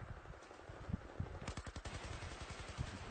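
Automatic gunfire in Battlefield 4 gameplay, with rapid bursts of machine gun shots rattling over a continuous backdrop of battle noise, loudest in a tight string of shots midway through.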